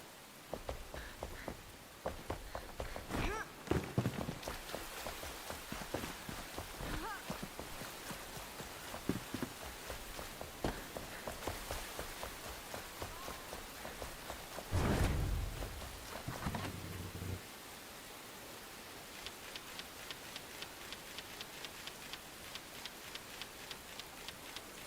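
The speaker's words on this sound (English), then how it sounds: "It's raining in the snowy region." Steady rain patters down in the snowy region of the video game Enshrouded, a dense, even hiss with fine ticking drops throughout, briefly swelling with a louder whoosh partway through before settling back to light pattering.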